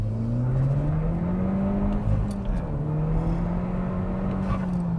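A SEAT Leon Cupra on Goodyear Eagle F1 SuperSport tyres accelerates hard, its engine droning and rising steadily in pitch inside the cabin, with a brief shift dip midway; loud and continuous.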